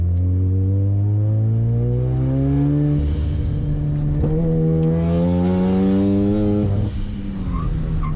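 A car being driven on a race track revs hard, its engine note rising and falling through shifts with a loud, close, continuous drone and no talking.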